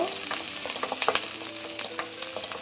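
Capsicum frying in a hot pan while garlic noodles are cooked, with a soft steady sizzle broken by sharp scraping clicks of a spatula stirring the pieces, close and with no talk.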